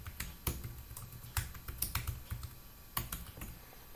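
Password being typed on a computer keyboard during an online authentication step, a run of soft, irregular key clicks with a few sharper taps, close and quiet, with no voices.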